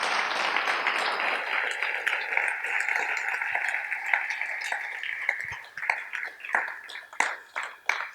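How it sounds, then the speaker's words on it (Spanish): A congregation at an evening Spanish-language church service applauds, a dense burst of many hands clapping that holds steady and then thins into scattered individual claps as it fades, with no speech. "Démosle los aplausos al Señor en esta noche."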